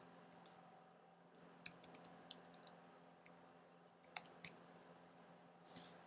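Quiet, irregular clicks of keys being typed on a computer keyboard during editing work in Photoshop, arriving in short bursts with pauses between, faint and close over a low steady hum.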